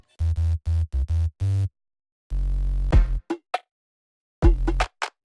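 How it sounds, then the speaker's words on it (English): A layered synth bass built from a high-passed saw wave, a sine sub and white noise: five short, deep punchy notes in quick succession, then a longer, noisy sustained note and a few scattered hits after a pause. "I took a saw wave, I high passed it a bit so I could make room for the sub,"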